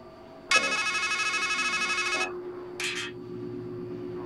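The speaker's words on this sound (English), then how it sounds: "It's a payphone." A payphone rings in the video game Strangeland: one loud, steady electronic trill of about two seconds, then a short second burst, over a low ambient hum.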